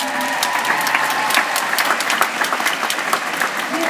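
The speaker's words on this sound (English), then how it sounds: "Can we give her a round of applause?" A convention panel audience at Dragon Con applauds an interpreter, with sustained, dense clapping from a large crowd filling the room, steady and loud throughout with no voices over it.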